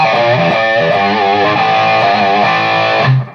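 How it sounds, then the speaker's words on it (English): An electric guitar through a Jamtastik distortion pedal plays a run of sustained, buzzing, heavily distorted notes, loud and close, ringing out before cutting off. "So now I'm going to put a little distortion on here"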